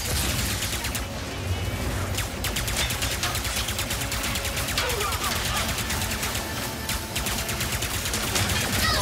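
Rapid bursts of gunfire in the video game Ratchet & Clank: Rift Apart crackle almost nonstop, sharp repeated shots layered over each other at close range.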